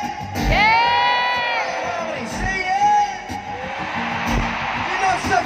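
A large stadium concert crowd at a show in Bangkok bellows a long, loud "yeah" together, then repeats it in a lower chorus, with scattered shouts echoing in a big open space.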